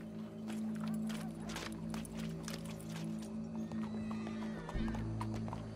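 Horse in the Red Dead Redemption 2 video game, hooves clip-clopping at a steady pace beneath game ambience and a low droning score, with voices talking over it.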